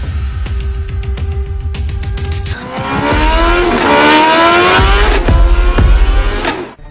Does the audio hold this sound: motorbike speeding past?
yes